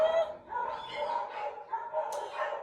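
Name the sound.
dogs barking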